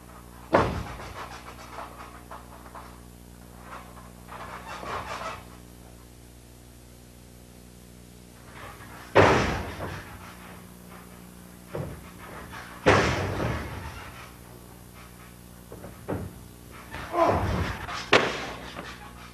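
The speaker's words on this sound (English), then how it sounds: "popping the meaty part of your forearm against the width of his chest" Several sharp, loud slaps and thuds of forearm strikes against a chest in a 1987 pro wrestling match, spaced irregularly over a quiet background with faint breathing between blows.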